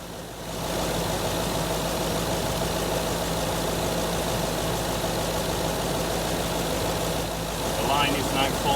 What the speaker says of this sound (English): So we'll leave the car running.